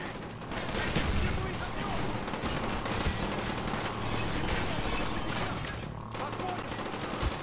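Shotguns blast repeatedly in a Call of Duty Black Ops fight, layered with other gunfire and crashing impacts into a loud, continuous barrage. Someone talks over the shooting.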